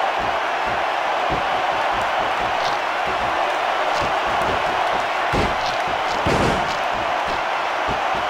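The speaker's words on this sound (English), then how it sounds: "Wow, listen to that chant, Taz." A wrestling arena crowd roars and chants continuously, a dense, loud wash of voices with scattered claps and thumps throughout.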